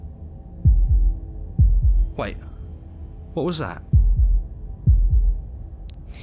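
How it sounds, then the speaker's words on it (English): Repeated heartbeat thumps from the video game Slay the Princess, strong low double beats at a steady slow rhythm, with a voice asking a question partway through and a brief sweeping tone. "That was the sound of a heartbeat,"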